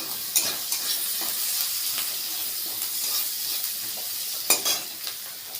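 Onions go into a hot pan with spices, giving a steady close sizzle with a few sharper stirring scrapes and clatters, no voices over it.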